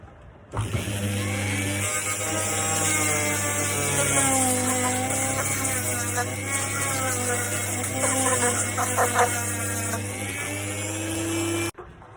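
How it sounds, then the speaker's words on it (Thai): A grinder works the sole of a football boot being prepared for regluing, giving a loud, steady, close whine with shifting tones as it bites the material, running almost the whole time before cutting off abruptly. "ช่วงตรงนี้เราก็จะใช้ที่เจียนะครับในการเจีย"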